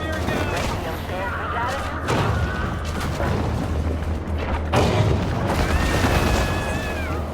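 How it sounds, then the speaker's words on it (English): Rapid bursts of gunfire from armed locals in the video game Maneater crackle and boom repeatedly throughout, a dense, continuous barrage mixed with splashy game noise. "And they're always shooting at you."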